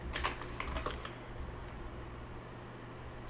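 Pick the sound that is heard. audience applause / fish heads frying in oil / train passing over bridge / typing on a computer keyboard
typing on a computer keyboard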